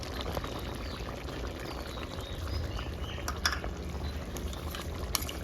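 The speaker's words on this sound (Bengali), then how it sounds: "আমি গাই দুধই দিচ্ছি।" Cow's milk pours into a cooking pot during Bengali cooking with poppy seed, melon seed and green chilli paste. A continuous liquid bubbling and splashing sounds close and steady, with a few faint clicks.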